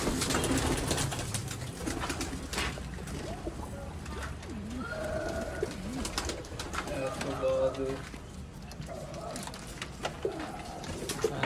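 Sharmile pigeons from a Sialkot breeder coo in soft, repeated low calls under steady conversation from nearby men.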